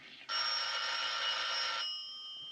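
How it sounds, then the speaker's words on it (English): A single telephone bell rings for about a second and a half, bright and clear, then cuts off into quiet room tone, in a 1939 film. "The telephone is ringing."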